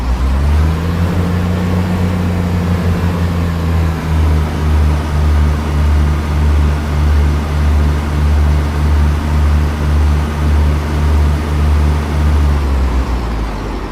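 Locomotive engines on the Thames Branch Lines route in Train Sim World, a steady loud low diesel drone with a slight pitch rise near the start, holding evenly throughout before cutting off at the end, with no voices.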